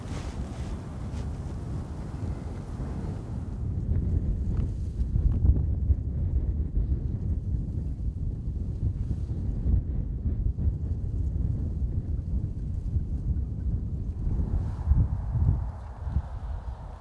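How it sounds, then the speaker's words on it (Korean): Strong winter wind blows across a fishing waterway near the west coast, a steady, low buffeting rumble against the microphone that continues throughout. "세찬 바람 탓에 캐스팅마저 여의치 않지만"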